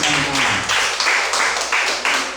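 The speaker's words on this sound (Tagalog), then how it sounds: "Sige po, palakpak sa Panginoon." Congregation at a Sunday worship service clapping together in a steady rhythmic beat, loud and close, filling the room without speech.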